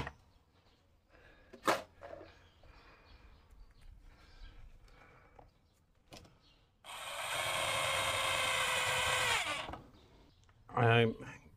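A screwdriver drives screws into a piece of bark to anchor a staghorn fern: scattered clicks and rustling lead into a loud, whirring burst of about three seconds, then a short final knock, with some talk around it.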